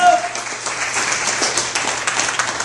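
Wedding guests applaud during the ceremony, a short, even wash of clapping from a gathered crowd, steady and moderately loud.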